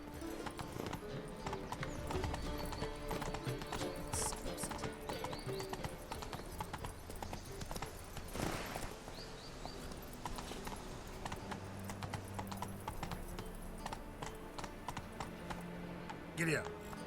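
Roach, a horse in The Witcher 3, trots with steady clip-clop hoofbeats under faint game ambience, with a brief whinny and occasional louder bursts.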